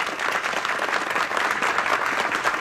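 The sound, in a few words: audience applause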